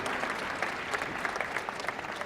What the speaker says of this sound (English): let's give a round of applause to all of our pitchers